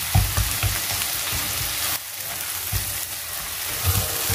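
Sliced onions and coarsely pounded bird's eye chili sizzle in hot oil, a close, steady frying crackle with a few louder low bumps from stirring, no talking.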